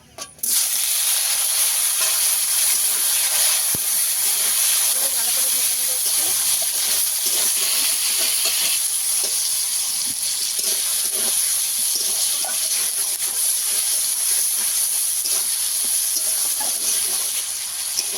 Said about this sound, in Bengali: ভালো করে ভাজা হয়ে গেছে টমেটো কুচনো দিয়ে দেবো